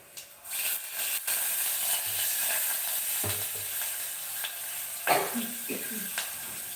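Curry leaves sizzling as they drop into hot oil for tempering, a steady crackling hiss with brief louder bursts, while a voice speaks over it.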